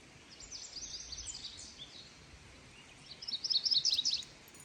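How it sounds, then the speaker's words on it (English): Birds sing outdoors on a morning homestead, with faint, scattered high chirps at first and then a louder, busier burst of calls near the end, heard alone over a quiet background. "The birds are amazing this morning."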